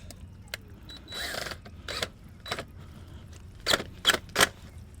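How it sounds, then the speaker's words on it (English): A worm drive clamp is tightened onto a pool pump fitting on a 2HP dual-speed pump, with a series of close, quiet ratcheting clicks and short metallic scrapes coming in uneven bursts. "tighten it down with this worm drive clamp"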